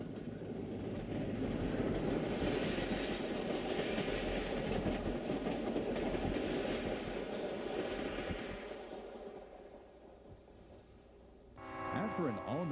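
Wabash Railway passenger train, the Detroit Limited, rolling past after an overnight run from St. Louis, a loud steady roar and rumble that fades after several seconds before a brief tonal sound at the end.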